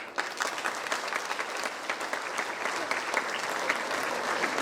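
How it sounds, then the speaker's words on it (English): A final round of audience applause at a motivational speech event, steady, dense clapping from a sizable crowd holding at an even level throughout, with occasional faint voices mixed in. "So a final applause before we begin."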